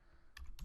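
A few quick keystrokes on a computer keyboard typing a PowerShell script path, two short bursts of clicks close to the mic, with no speech.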